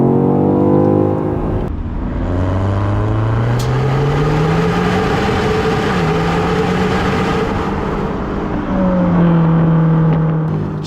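A car engine revs hard with the exhaust flap open, loud and close, with rising and falling pitch sweeps as it accelerates and shifts through gears. The growling tone continues for about eleven seconds with no voices.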